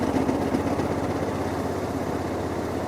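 A Honda Hawk 11 motorcycle engine runs with a steady, throaty drone as the throttle opens on a mountain pass, close and loud, holding an even pitch without any clear rise in revs.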